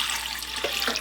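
Warm water running from a faucet for pizza dough, a steady close hiss of flowing water filling the full second with no talk.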